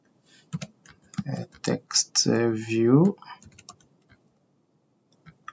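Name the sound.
typing code on a computer keyboard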